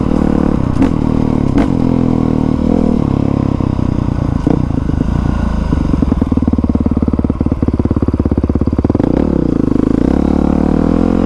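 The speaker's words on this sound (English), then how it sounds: "I just flipped the throttle when downshifting like that because I really like the sound." A 2020 Honda CRF450R dirt bike with a Yoshimura exhaust rumbles loudly up close, its engine note rising and falling through quick throttle blips and a rapid rattling burst while downshifting.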